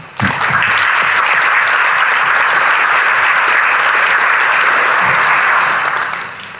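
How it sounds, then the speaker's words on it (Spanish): An audience bursts into loud, sustained applause for the justice minister, Dr. Héctor Arce Zaconeta, a dense wall of clapping that starts abruptly, holds steady for several seconds and tapers off at the end. "Por favor, un fuerte aplauso."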